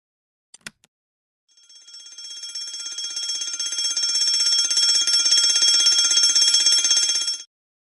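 A device alarm in the video game Nobodies: Silent Blood gives a couple of sharp clicks, then starts a rapid, piercing electronic beeping that grows louder and rings on steadily for several seconds before cutting off abruptly.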